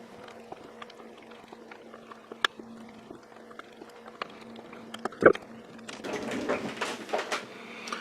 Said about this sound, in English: drop one of the screws on the floor there